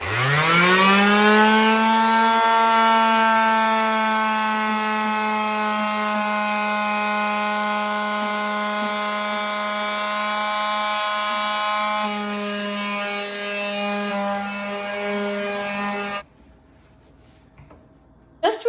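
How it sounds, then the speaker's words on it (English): A power sander works old stain off oak wood with a steady, loud, tonal hum that climbs quickly at startup and holds for about fifteen seconds. It then stops and is followed by quiet handling noises. "you're sanding off stain that's been sitting there"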